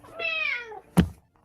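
A person imitates a cat with one drawn-out, wavering meow, followed a moment later by a single sharp thud or knock.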